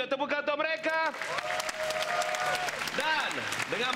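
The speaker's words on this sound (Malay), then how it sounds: "Tepukan untuk mereka." A studio audience on the Malaysian game show Money Drop applauds the contestants: crowd clapping runs throughout beneath a host's voice and tonal show music, loud and continuous.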